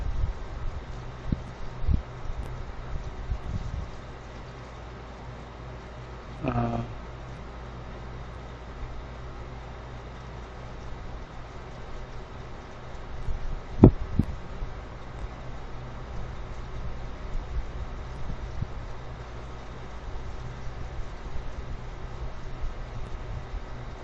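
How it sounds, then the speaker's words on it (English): Wind gusts buffet a telescope set up on a porch, a low, steady rumble with a few brief knocks and swells rising and falling over a quiet background. "it's just the wind blowing up against that telescope"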